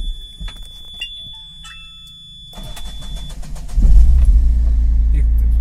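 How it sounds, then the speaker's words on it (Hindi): An Ashok Leyland Dost CNG light truck's engine, fitted with a new battery, cranks briefly after a high electronic tone, then fires and settles into a loud, close idle rumble. "इंजन की स्टार्ट होने की आवाज़।"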